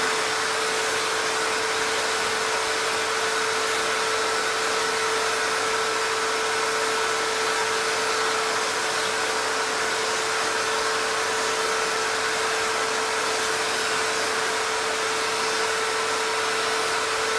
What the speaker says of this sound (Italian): così non faccio polveroni, con l'aspirapolvere.